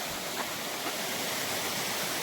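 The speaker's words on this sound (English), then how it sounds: "You can see the water running back there." Water rushes steadily on a hiking trail near St. Mary's Falls, a continuous broadband roar heard from some distance with no break and no voices.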